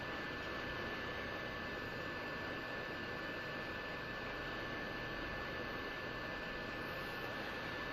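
A hot air rework gun blows a steady, faint hiss of air over a circuit board while SMD parts are being removed, with a thin constant whine underneath and no talk.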